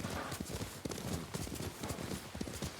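Horse hooves clip-clopping in the video game Ghost of Tsushima, a steady, close, rapid beat of hoofbeats that runs throughout, under a low background of game ambience.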